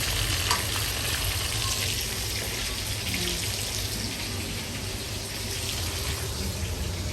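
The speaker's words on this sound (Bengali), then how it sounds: "আমি ওর জন্য আলাদা করে শিং মাছ রান্না করছি" Shing fish, stinging catfish, cooks in a pan with a constant dense sizzle and hiss throughout, a steady close frying sound with no talk.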